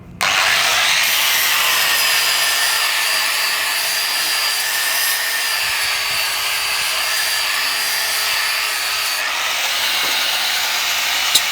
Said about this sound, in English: Grinding the flash off, cut out parts